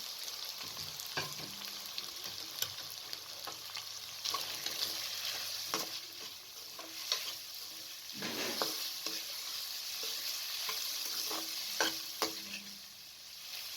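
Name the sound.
minced meat (keema) frying with spices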